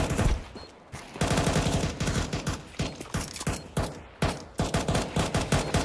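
Rapid bursts of automatic gunfire in the video game Counter-Strike 2, with loud, repeated volleys broken by brief pauses and a steady, punchy rhythm throughout, and no voices.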